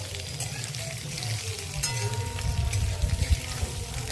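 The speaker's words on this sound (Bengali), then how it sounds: "সেদ্ধ করা আলুগুলো দিয়ে খানিকক্ষণ একটু ভেজে নেব।" Sliced onions and boiled potatoes sizzle and crackle in hot oil in a frying pan, with occasional stirring clatter growing busier toward the end, and no one talking.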